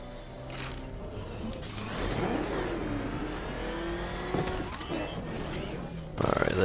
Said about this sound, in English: Rev the engine up.